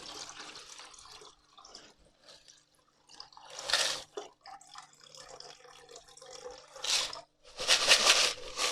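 Aquarium gravel being rinsed gives off irregular splashes and drips of water, mostly soft with a few louder sloshing bursts toward the end, no talk over them.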